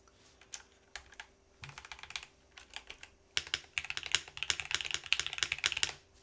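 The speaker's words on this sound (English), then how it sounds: "this drastically changes the sound of the keyboard" Typing on a custom mechanical keyboard fitted with a proper force break, with close, crisp key clacks in short bursts that build into fast, dense typing in the second half.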